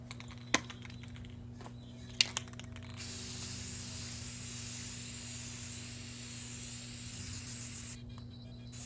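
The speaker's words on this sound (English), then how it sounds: "I wanted to be very careful to spray on a top coat" A few sharp clicks, then a steady aerosol spray of top coat paint onto an old table base and chairs hisses continuously for several seconds before cutting off.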